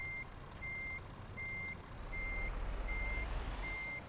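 A truck in Euro Truck Simulator 2 reverses while parking, its reversing alarm beeping in an even rhythm, six evenly spaced tones over a low engine rumble that swells slightly midway.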